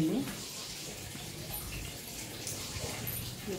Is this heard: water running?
yes